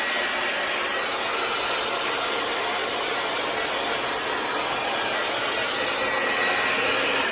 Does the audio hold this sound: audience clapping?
no